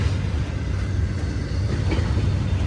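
A BNSF freight train loaded with double-stacked containers rolls past close by, a steady loud rumble and clatter of wagons and wheels continuing throughout without pause.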